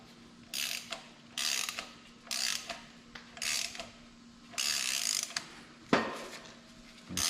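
A hand ratchet tightening a tool during a 5.3 V8 Suburban engine teardown, several close bursts of rapid clicking in a rhythmic series, followed by a sharp metallic clunk.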